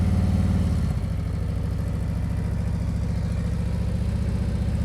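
A motorcycle engine runs at low revs during slow-speed riding practice in Nevada, a loud, steady, close throb with a slight shift in pitch near the start.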